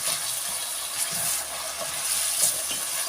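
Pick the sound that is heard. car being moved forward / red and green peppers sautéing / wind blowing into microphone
red and green peppers sautéing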